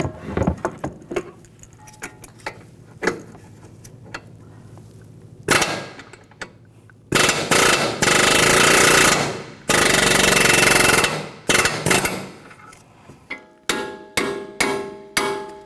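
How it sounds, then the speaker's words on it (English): Sharp metallic hammer blows on a punch ring out, first scattered and light, then loud bursts of rapid pounding and a few final heavy strikes, driving out a front upper control arm bushing on a 2004-2009 Audi A4 Quattro. "You can use an air hammer if you want to, or just a punch and a hammer."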